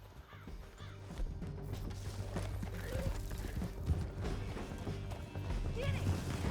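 Galloping horse hoofbeats in Red Dead Redemption 2, a steady rumbling clip-clop of riders moving through a canyon, mid-distance and continuous, with occasional shouts and a snort or whinny over the top.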